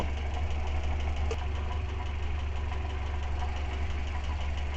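A car engine fitted with a Solex 28 carburetor idles steadily while warming up, a constant low rumble with a faint knocking pulse and no voices, heard close and continuous throughout.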